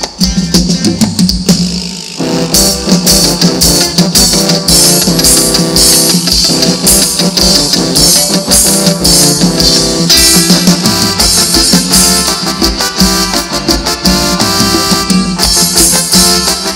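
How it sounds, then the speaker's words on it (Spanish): A live band with trombones plays a song at a village fiesta, loud and dense, with brass and percussion driving a steady dance rhythm throughout. "Échale los trombones, maestro."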